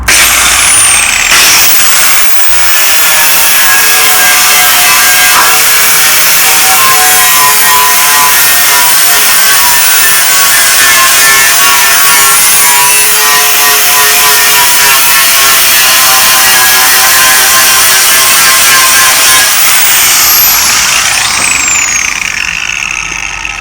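A steady, harsh abrasive grinding disc drones on for over twenty seconds, loud and close, stripping paint and rust from Land Rover Series 3 body panels, with a rough metallic rasp that barely changes.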